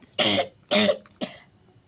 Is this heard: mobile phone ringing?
no